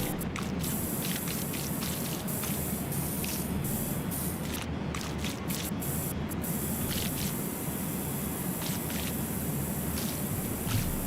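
A surface cleaner sprays water in the video game PowerWash Simulator 2, giving a constant loud hissing rush with brief flickers and cut-outs, steady for the whole stretch without speech.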